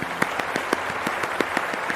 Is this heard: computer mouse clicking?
no